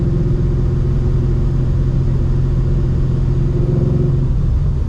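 A Coyote V8-swapped 1996–2004 Ford Mustang drones loudly and steadily while driving, a deep, constant engine rumble from inside the car with a slight dip in pitch near the end.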